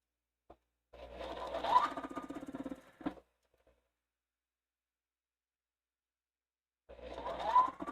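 A sewing machine joins quilt blocks for a wall quilt, running in one steady burst of a couple of seconds, then falling silent, then starting up again near the end.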